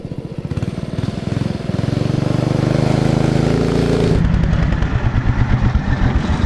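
A Big Block Briggs engine powers a longitudinal-engine mini bike ridden on dirt. It roars as it revs up under load, then drops to a rapid, loud pulsing putter as it slows nearby.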